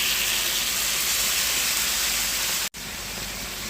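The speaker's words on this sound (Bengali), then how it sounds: "গরম জলটা দিয়ে দিচ্ছি" Hot water poured into sizzling spice masala in a pan while cooking a Bengali fish-head and potato curry, a loud steady hissing, bubbling roar that cuts out briefly near the end and then continues.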